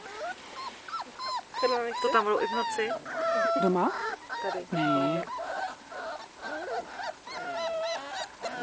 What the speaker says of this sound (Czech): Už to štěká